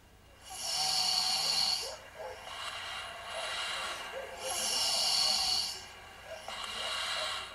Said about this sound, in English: if a child snores, it's real bad for them